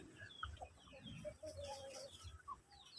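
Several Rhode Island Red and Basilan crossbreed chickens cluck and murmur nearby on a farm, with short scattered calls over quiet farmyard background.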